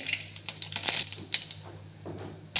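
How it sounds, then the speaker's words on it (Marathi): Mustard seeds dropped into hot oil in a kadhai on a gas stove for bhindi sabzi, giving a run of sharp crackles and pops close by, with no talk. "तेल तापलेलं आहे मोहरी टाकूया"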